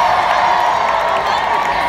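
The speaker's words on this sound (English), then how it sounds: "Crowd was about to go completely crazy." A large concert crowd roars and cheers continuously at a show in Atlantic City, a loud dense wash of voices filling the whole stretch.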